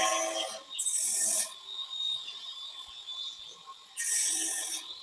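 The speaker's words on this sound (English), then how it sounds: "I'm just smoothing the edges with the grinder." A grinder smooths the cut edges of plastic window sheets for a parrot aviary, sounding as two loud, bright rasping bursts at the start and end with quieter scraping between them.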